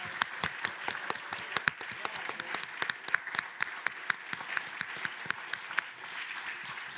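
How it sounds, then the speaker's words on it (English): A conference audience applauds the translators with a dense, steady round of many hands clapping, moderately loud and continuous throughout. "maybe we could just have a round of applause for our translators"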